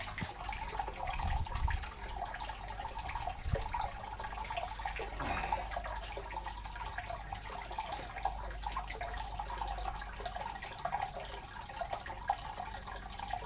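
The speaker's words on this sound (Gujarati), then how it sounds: "આ જગ્યાએ પાણી આવતું જ રહે અને આ ચાલુ ચાલું જ પાણી હોય" Water flows and splashes steadily into a stone pool at Bhim Kund on Girnar mountain, a constant gentle trickling with no voices.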